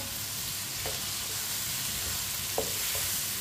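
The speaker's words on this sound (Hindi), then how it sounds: "टिंडों को भी 2 मिनट के लिए पका लेते हैं।" Tinda (apple gourd) cooking in a pan, a steady soft sizzle with a couple of faint stirring clicks, close and quiet.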